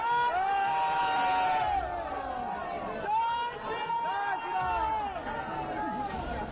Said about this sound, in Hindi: वीर भूमि की गलियों से गुजरते मोदी के स्वागत में जुटी ये भीड़